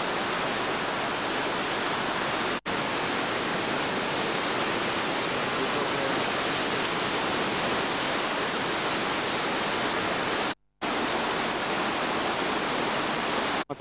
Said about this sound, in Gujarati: એક નદી આ બાજુથી આવે છે.